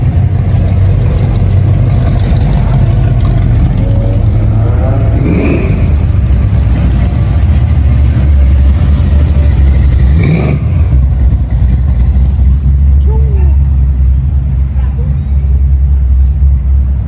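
Constant loud road rumble with cars cruising past on a one-way street and engines revving nearby at a car festival night, with a voice heard faintly in the background.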